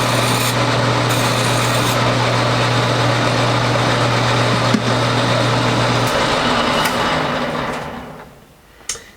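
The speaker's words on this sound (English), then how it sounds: "So let me deburr this." A tool scrapes steadily along the edge of sheet metal to deburr it beside a bead roller, a loud, continuous rasping grind with a low hum that fades near the end, followed by a single sharp click.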